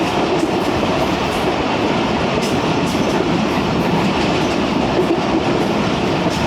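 Allama Iqbal Express passenger train running along the rails in Pakistan, a loud, steady close rumble with a rhythmic clickety-clack of the wheels and faint high squeals, with no voices.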